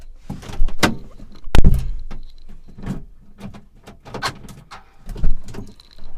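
A faulty door lock actuator on a 2008 Kia Spectra fires in a series of sharp clicks and clunks, spaced irregularly over several seconds, close by and fairly loud, with weak whirring between some of the bursts.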